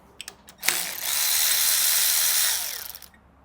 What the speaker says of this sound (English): So we can just unbolt these from the gearbox